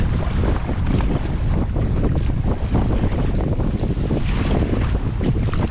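Strong wind roars and buffets the microphone over a lake in the Manitoba wilderness while canoeing, a loud, constant gusty rush with splashing water and no talk.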